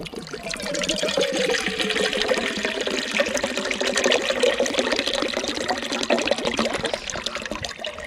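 Steady splashing and gurgling of water poured into a pot on a Firemaple FMS X1 camping stove, continuous and fairly close for several seconds with no talking.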